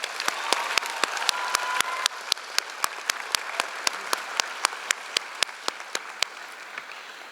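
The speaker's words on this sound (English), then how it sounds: "Could we give him another round of applause?" Applause from a graduation ceremony audience: a thin round of distinct claps, each clear and sharp, keeping a fairly steady beat for several seconds before thinning out.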